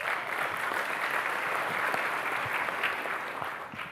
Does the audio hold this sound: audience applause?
yes